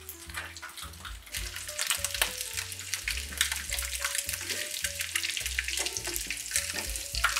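Breaded ham and cheese rolls fry in hot oil, a steady dense crackling sizzle with bursts of spattering throughout, close and fairly loud, with a low background hum and no talking.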